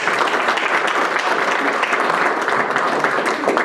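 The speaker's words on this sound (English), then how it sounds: "let's just give a warm applause and welcome to our whole delegation" Warm applause from a crowd welcoming a visiting political delegation, loud and dense clapping close to the microphone that holds steady throughout without any speech.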